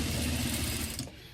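Sewing machine stitching down a fabric bow on a baby dress, a brief close steady mechanical whir that cuts off near the end.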